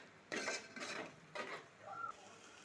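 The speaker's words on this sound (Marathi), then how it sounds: "आता हे सगळं छान आपल्याला मिक्स करून घ्यायचं आहे" Pav bhaji masala being stirred into vegetables in a pan, with several short scraping, clinking strokes of a spoon against metal, each lasting about half a second and spaced apart, fairly quiet and close.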